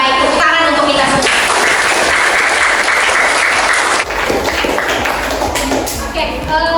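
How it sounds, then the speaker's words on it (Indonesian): Sustained applause from a classroom of students fills the room, dense and steady from start to finish, with some voices audible beneath the clapping. "Tepuk tangan untuk kita semua."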